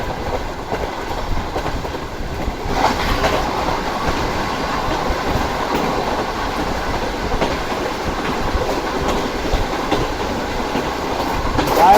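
A Pak Business Express passenger train runs along the rails, heard from on board as a loud, continuous rumble with rhythmic clickety-clack from the wheels passing over rail joints throughout.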